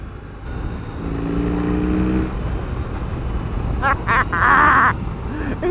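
A BMW R18 motorcycle engine rumbles low and steady, rising into a louder, rougher growl as it revs up, close by.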